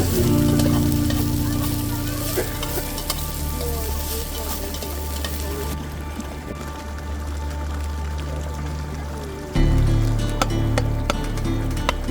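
Food for a Goje Sabz stew sizzles in a pan outdoors during a raging storm, with a steady loud frying hiss, stirring scrapes and a low background hum that jumps near the end.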